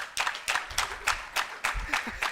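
Kyambogo University teams clap in a hall at a debating championship in Kampala, a rhythmic crowd applause in even repeated beats, moderately loud, with some voices mixed in.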